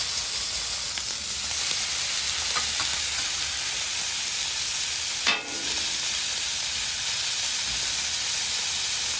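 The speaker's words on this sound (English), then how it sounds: "Just hit that chopped up steak, that ribeye with some good seasoning that you like." Chopped, seasoned ribeye steak sizzles on a Traeger Flatrock griddle: a steady, close frying hiss throughout, with one brief sharper crackle midway and no voices.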